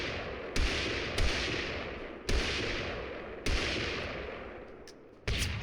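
Musket shots in the battle royale game TABG, five loud separate reports spaced about a second apart, each with a long rolling decay into a dense noisy background.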